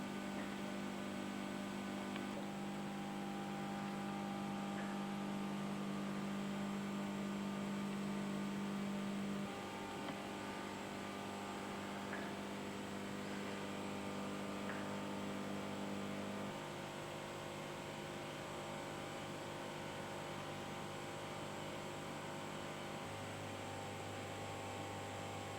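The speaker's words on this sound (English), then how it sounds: "There's the standby diesel generator." Standby diesel generator running in a lighthouse engine room on Sark, a steady droning hum with shifting tonal whine, continuous and close throughout, no voices.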